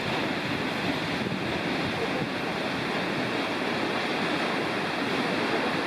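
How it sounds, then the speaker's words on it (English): The lower part of a waterfall on a snowy, icy Catskill Mountains trail in winter rushes in a steady, dense roar that stays constant and fairly loud throughout, with no voices. "that's the lower part of the waterfall"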